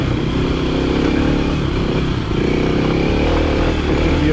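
A dual sport motorcycle rides along in first gear, the engine droning loud and close with a constant, rough roar and slight fluctuations in pitch throughout.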